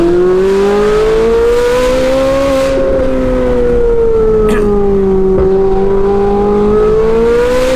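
A tuned Ferrari LaFerrari hypercar engine roars loud and close, its pitch rising and falling smoothly as it revs and accelerates continuously, with no voices over it.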